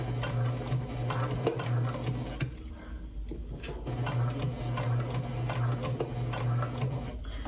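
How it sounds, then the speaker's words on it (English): Sewing machine stitching around a curve while making spooky fabric pouches, a steady mechanical whir running in two long bursts with a short pause between, close and fairly loud with no voice over it. "So I'm sewing between like 2 and 3 stitches and then angling it, like following the curve of the eye."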